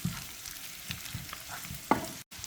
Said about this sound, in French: Après 25 minutes à la poêle, voilà. Ma viande a bien braisé.